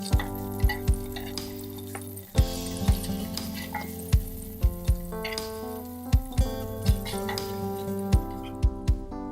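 Beef chunks browning in a hot pan for Guinness beef stew, a steady sizzle broken by repeated sharp clicks and knocks of a utensil against the pan, close and clear.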